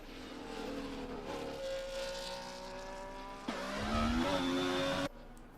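Race car engines roar in an online racing game at the Qatar circuit: a steady, high engine whine with rising pitch, then a louder, closer car surges in for a few seconds before cutting off abruptly.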